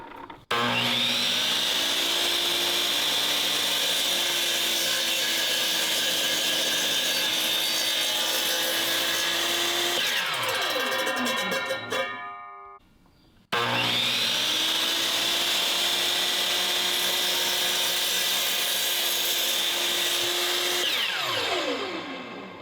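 A miter saw cuts through pecan wood in two long, loud passes, a steady close whine with grinding blade noise that spins down after each cut, with a short silent gap between them.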